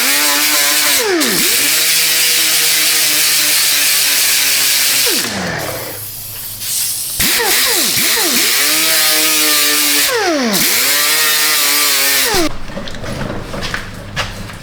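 A power wire wheel grinds loudly against a Ford Escape exhaust pipe in long continuous bursts, its whine swooping up and down, with a short pause and a quieter gap between passes.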